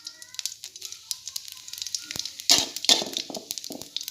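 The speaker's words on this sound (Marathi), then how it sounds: "तेल गरम झालेलं आहे। आता आपण यामध्ये ओवा टाकणार आहोत" Carom seeds are dropped into hot oil and sizzle in a pan, giving bursts of crackling and spitting pops that swell briefly midway, close and fairly quiet.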